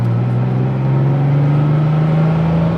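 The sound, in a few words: car engine running under load with five people aboard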